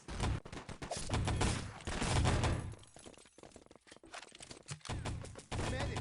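Heavy gunfire is traded in a competitive video game match, with dense bursts of rifle and machine-gun shots that crack and roll almost without a break.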